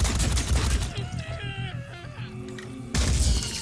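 Gunfire from the turn-based strategy video game Phoenix Point, a loud burst of blasts at the start, then quieter game sound effects and tones, before another loud burst of shots at the end.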